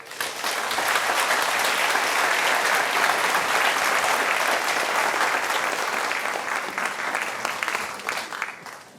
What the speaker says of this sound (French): je vous invite à les applaudir